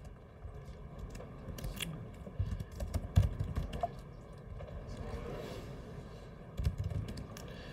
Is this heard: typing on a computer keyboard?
yes